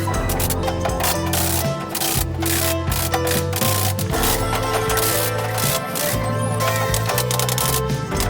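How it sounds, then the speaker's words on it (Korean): A drywall cutter saws through a ceiling board to open a hole for an air conditioner, giving a loud, continuous grinding rasp with a steady motor hum underneath and short breaks as the blade is repositioned. "드라이어 커터로 에어컨 타공 작업."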